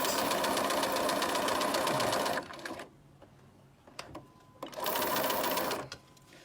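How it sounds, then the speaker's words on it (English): A sewing machine runs in a rapid, rattling zigzag stitch, loud and close, stopping for about two seconds with small clicks before a second steady burst, then halting. "My machine went to a zigzag."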